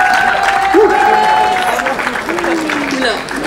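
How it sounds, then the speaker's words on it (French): Audience clapping for a rap battle performer at a compliment-themed battle, a crowd of hands under overlapping talk and tonal sounds, fairly loud and steady throughout. "Alors on l'applaudit, c'est parti,"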